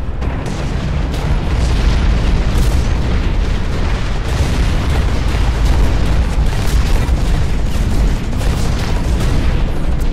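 Gunfire and explosions in the mech shooter Hawken: a dense, continuous barrage of loud booms and rapid blasts for the whole stretch, close and overwhelming, no voices.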